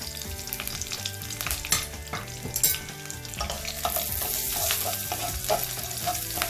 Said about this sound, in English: I'm going to saute it for a little bit. On this high flame.